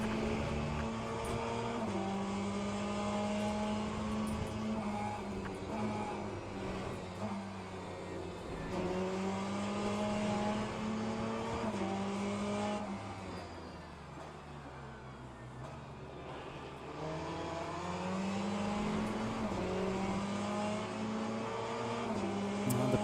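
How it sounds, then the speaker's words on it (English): Porsche P1 race car engine in a racing video game at Imola, a steady high-revving drone with shifting tones, dipping briefly mid-run before climbing again, continuous and close throughout. "The P1 Porsche is pulling away now."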